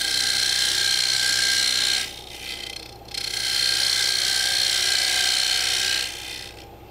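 A wood lathe tool cuts a dovetail inside a turned lip, giving a steady hissing, rasping scrape up close that eases off briefly twice before resuming.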